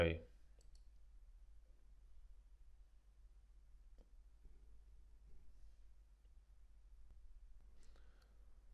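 A few quiet computer mouse clicks, sharp isolated ticks spread across near silence, with a soft low hum beneath.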